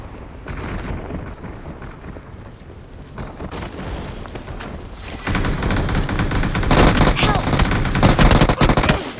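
Gunfight in the mobile game PUBG Mobile, with dense rattling automatic gunfire and sharp shots that build from moderate to loud, heavier bursts toward the end.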